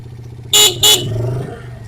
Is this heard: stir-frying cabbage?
no